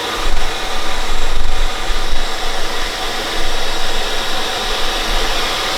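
Milwaukee 0885-20 backpack vacuum running on its second speed, a loud, close, steady motor whine and airflow roar with slight surges in level, no talk over it.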